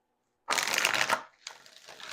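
A deck of Trust Your Vibes oracle cards is riffled and shuffled. A loud, dense rustle of card noise runs for about three quarters of a second, then a quieter patter of cards continues without any voice.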